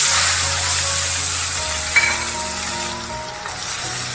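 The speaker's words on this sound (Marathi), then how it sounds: "आता त्याच्यात टामॅटो घालते" Chopped tomatoes hit hot oil already seasoned with turmeric and asafoetida, bursting into a loud, steady sizzle with faint clinks, for a ridge gourd gravy.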